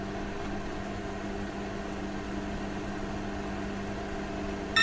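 Microwave oven running while heating food, giving a steady, even low hum throughout with a faint click or beep right at the end; no voices present.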